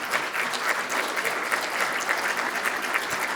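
An audience at opening remarks for a women's support center breaks into a warm round of applause, thick continuous clapping from many hands, near and steady throughout.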